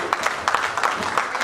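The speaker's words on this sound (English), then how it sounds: "A round of applause." A brief round of applause breaks out at the fifth anniversary celebration of an Osun descendants' union in Ireland, with a small crowd clapping in quick, uneven bursts for a short moment.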